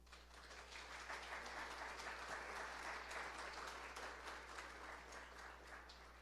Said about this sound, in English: please a big applause for Maestro Duarte